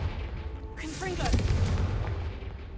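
Confringo blasting spell in Hogwarts Legacy, a sudden magical burst that swells into a rumbling boom and lingers, with game ambience around it.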